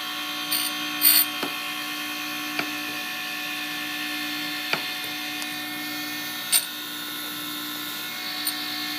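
An end mill is ground against a grinding wheel in a workshop, a steady high motor whine with faint occasional ticks and brief scraping contacts, close and continuous, without speech.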